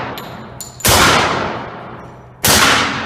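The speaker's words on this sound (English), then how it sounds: "Glock 26, 9mm. Suppressed, unsuppressed, unsuppressed." Two loud gunshots from a Glock 26 9mm pistol, the first suppressed and the second unsuppressed, fired at a range; each is a sharp crack that trails off in a long decaying echo, preceded by faint metallic clicks.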